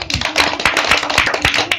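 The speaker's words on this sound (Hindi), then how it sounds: "इसके लिए ताली बजा दो" Children in a classroom clap their hands together, a fast, dense patter of many small claps lasting throughout, fairly close and steady with no pauses.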